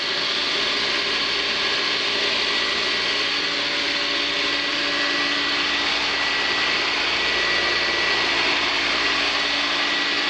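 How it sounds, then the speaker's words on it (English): A swimming pool filter pump runs at about 12 to 15 psi, giving a loud, unbroken mechanical whir and hiss that stays constant throughout with no talking. "Filter's running about 12, 15 psi."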